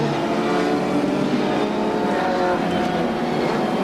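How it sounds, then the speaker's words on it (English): CART Indy race cars from 1994 at Phoenix circle behind the pace car under caution, a loud continuous engine drone with layered overlapping tones and no break. "All right, they circle now. Johnny Rutherford in the pace car"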